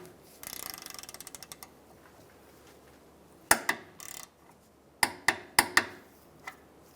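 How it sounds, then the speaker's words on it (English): A torque wrench tightens a 17 mm bolt on the engine torque strut mount of a 2007-2015 Mazda CX-9: a quick run of light ratchet clicks, then a handful of sharp, separate metallic clacks close by, with no talking. "we're going to torque these down. It's going to be a 17 millimeter and we're going to torque it down to"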